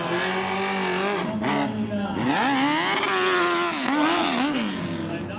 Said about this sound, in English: It's kind of a morph between a sport bike and a dirt bike.